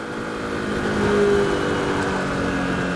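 A motorcycle engine hums steadily while riding, a continuous mid-level drone with slight swelling in the middle and no voices.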